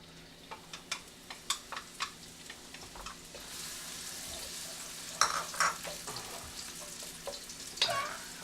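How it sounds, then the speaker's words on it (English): Shallots fry in hot oil with a steady sizzle. Sharp utensil taps and stirring clatters come at irregular intervals, and the frying grows louder and denser partway through. No talk. "So I'm going to fry up these shallots, and then I'm going to drain the oil into a measuring cup here."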